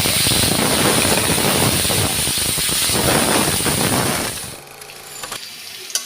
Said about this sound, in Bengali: দেখো, তেলটাও গরম হয়ে গেছে। এবার আমি দিয়ে দিচ্ছি কাটা আলুগুলো।